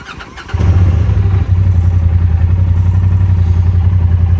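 Polaris RZR Pro S side-by-side engine cranks and catches, then settles into a loud, steady low rumble close by, with clatter at the start and no talking.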